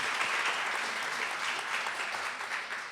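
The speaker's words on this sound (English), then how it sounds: "Please give them a round of applause." An audience applauds steadily, a dense wash of many hands clapping that slowly begins to fade.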